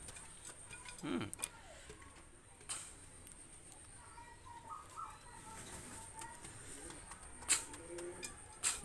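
Pigeons kept for sale cooing softly at a distance, faint scattered calls and rustles over a quiet background with a few ticking knocks, with no talk.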